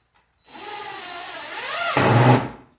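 A power drill bores into a wooden board with a steady motor whine that bends in pitch, then turns to a louder, rougher grinding before it stops abruptly.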